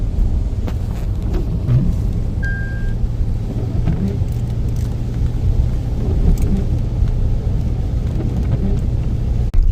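Heavy rain drums on a moving car on a road trip from Delhi toward Jammu, with a steady low road and engine rumble underneath and a continuous wash of raindrops, loud and close throughout.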